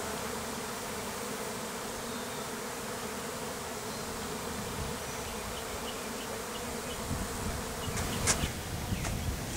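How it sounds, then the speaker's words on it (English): A dense, steady drone of a swarm of bees gathering at a hive box fills the air, with a few individual insects zipping closer and louder near the end. "I'm in the middle of a swarm. Bees are all coming to my box"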